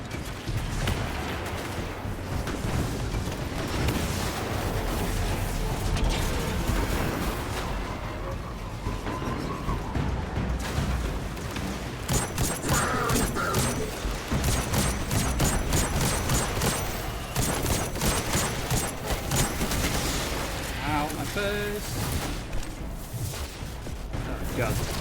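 Enemy gunfire rattles in Destiny 2 combat, with dense bursts of shots and impacts over a busy low rumble, the firing sharpening into rapid repeated cracks toward the end while someone talks.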